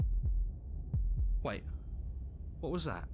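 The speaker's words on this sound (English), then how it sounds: "That was the sound of a heartbeat" Heartbeat in the video game Slay the Princess: four low, soft thumps in two close pairs, then a voice speaks over a low hum.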